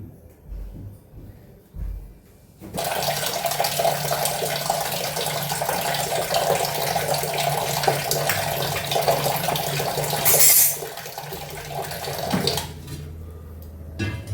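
Water pours into a cooking pot for boiling plain oats at home, a steady close splashing stream lasting about ten seconds after a few light knocks, then stopping.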